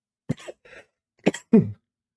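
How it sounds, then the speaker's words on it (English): Two short bouts of coughing, each a sharp cough followed by a quick second one, close and otherwise in silence. "I'm coughing a lot"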